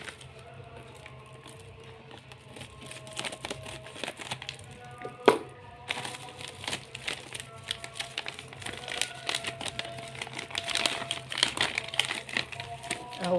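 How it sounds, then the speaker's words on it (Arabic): A plastic bag of dish soap powder is handled and torn open, giving close, irregular crinkling and rustling that grows busier toward the end, with no talking. "انا بجيب الكيس كده زي ما انتم شايفينه، افتحه"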